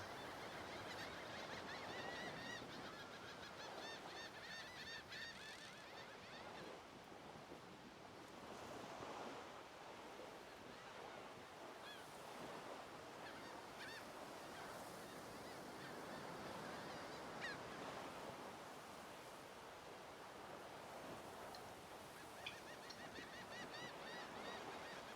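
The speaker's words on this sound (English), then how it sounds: "All those bird sounds." Geese honk repeatedly over a steady wash of ocean waves and wind in the video game Divinity: Original Sin, a soft, continuous ambient bed with no voices.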